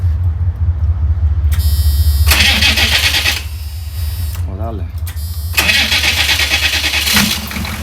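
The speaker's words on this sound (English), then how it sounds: "Let's see if it cranks up." A GMC G30 short bus diesel engine cranks in loud grinding bursts, pauses with brief voices, then catches and runs, rumbling steadily up close.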